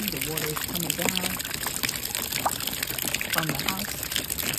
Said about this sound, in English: this is just a practical method that I have for fetching rainwater. Okay, and you can see the water is coming down